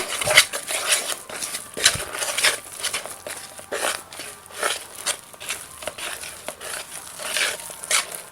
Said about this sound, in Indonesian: selanjutnya kita bisa aduk cepat